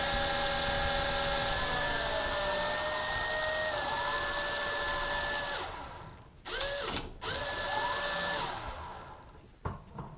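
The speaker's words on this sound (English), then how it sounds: "Rotor A is not spinning as fast as rotor B." Lite-Hawk XL RC helicopter rotors spinning at full throttle with a rotor fault: a steady high motor whine and buzzing gear drone, close and loud, which cuts out briefly twice and rises again before winding down at the end.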